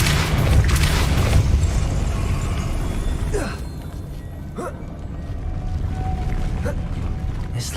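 In the video game Hogwarts Legacy, the Depulso spell fires with a deep booming blast followed by rumbling, mechanical knocks and scraping, loud and close, fading into lighter clunks.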